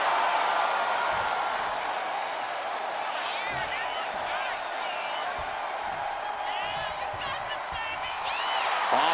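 Continuous arena crowd noise from a WWE 2K26 wrestling match fills the whole stretch, a steady roar with scattered whoops and claps, with game commentary running over it.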